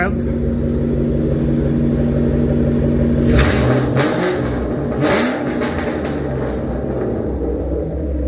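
A 2013 Shelby GT500 with a Roush cat-back exhaust and Bazzani H-pipe idles with a deep rumble, then blips its throttle in a couple of sharp, loud revs before settling back to a burbling idle.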